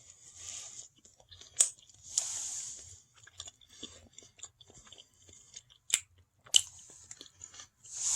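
A slice of cranberry coffee cake being eaten up close, with soft moist bites and chewing broken by a few sharper crunchy clicks, quiet and intermittent, with no talking.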